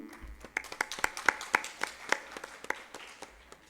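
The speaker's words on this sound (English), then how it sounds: "A big round of applause for him." Applause at a cultural festival event in Imphal, sparse and quiet: a small scattered group of distinct hand claps in an uneven rhythm, heard from some distance, with faint background murmur.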